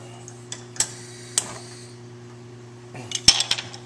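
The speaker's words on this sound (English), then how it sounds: "Put the lid back on and leave it for about 5 minutes." Metal lid set back onto a pot of stewing squash, with a few light clinks and taps followed by a clattering rattle of metal near the end, over a steady low hum.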